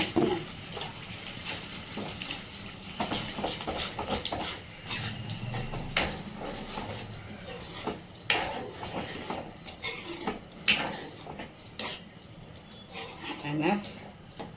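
Yogurt stirred into soya bean meal-maker curry in a pot, a spoon scraping and clinking against metal in irregular bursts while someone talks over it.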